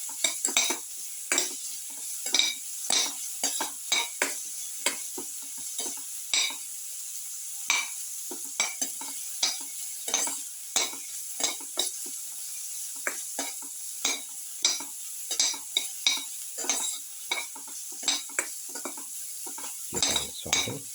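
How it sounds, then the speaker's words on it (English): Lamb sautéing in a pan for a garlic lemon casserole, with a steady sizzle under close, repeated scraping and clattering strokes of a utensil against the pan throughout. "You can saute."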